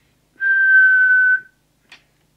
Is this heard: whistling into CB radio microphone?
yes